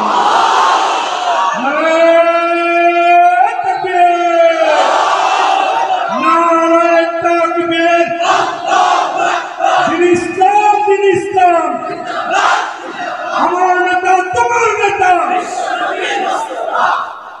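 A large crowd chants the religious slogan Allahu Akbar in loud, rhythmic repeated waves, massed voices rising and falling together with cheering throughout.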